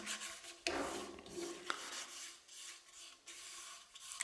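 A cloth rubs microcrystalline wax thinly over a turned wooden piece, making a soft, continuous close-up swishing and rasping with small changes of pressure and stroke.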